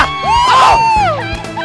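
Crowd cheering and whooping as a tightrope walker reaches the finish of a high-wire walk, with a rising shout and loud, excited voices close by.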